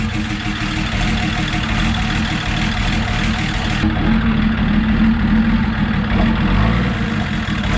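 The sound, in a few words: truck engine running after starting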